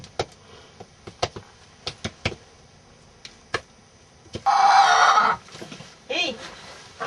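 A hen clucks in short, sharp bursts nearby at an urban backyard coop in Quebec in winter, with a louder squawking cackle partway through, then more clucks.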